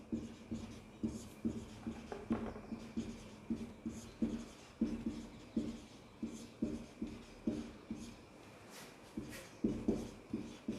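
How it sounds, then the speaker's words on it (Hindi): A pen scratching out a definition by hand on paper, in short repeated strokes with brief pauses between them, close-up and quiet. "लिखते हैं परिभाषा।"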